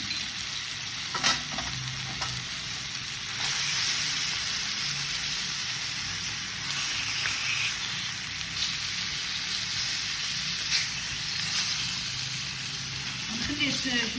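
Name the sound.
garlic frying in oil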